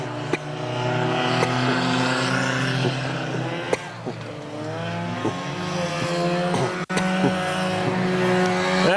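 Hornet-class race cars roar around the oval at USA Raceway, a steady, loud engine drone with shifting pitch as the pack runs down the back chute toward turn 3, with brief tire sounds and faint commentary beneath.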